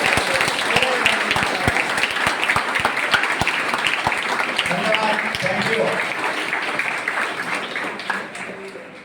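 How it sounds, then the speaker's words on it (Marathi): Students in a classroom session applauding with sharp, energetic clapping that tapers off near the end, and a brief spoken word of thanks over it. "लास्ट सेशन आपल्याला किती आणि किती उपयुक्त ठरला, तेवढ्या एनर्जीच्या टाळ्या द्या"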